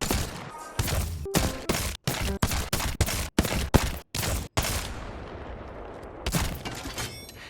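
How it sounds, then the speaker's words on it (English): Rapid bursts of gunfire from a weapon aimed at a firing range target in Apex Legends, a dozen or so loud, sharp shots in quick succession, then a short pause and a final pair of shots. "you need to go get a headshot on the firing range target with every weapon in the game"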